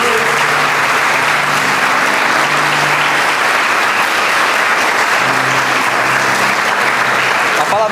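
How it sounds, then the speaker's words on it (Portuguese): A church congregation applauding during a worship service, loud, dense and continuous clapping from a large crowd with a faint voice underneath. "aplaudir o Senhor?"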